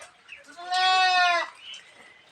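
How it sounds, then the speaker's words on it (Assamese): A newly bought female goat at a rural home lets out a single clear, drawn-out bleat lasting under a second, close and loud against quiet surroundings. "এয়া আমি ছাগলী পুহিছোঁ দেই ৰাইজ বন্ধুসকল।"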